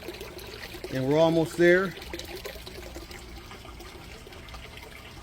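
Water trickling steadily into an almost full grow bed with an expanded clay medium, about eight inches deep, before a bell siphon drains it, a faint continuous flow beneath a voice.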